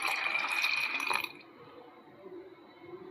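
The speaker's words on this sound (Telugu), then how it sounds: "ఇప్పుడు ఈ జొన్నల్లోకి తగినన్ని నీళ్ళు పోసుకొని" Water pours onto sorghum grains in a mixer jar for about a second, then stops, leaving a faint, quiet background.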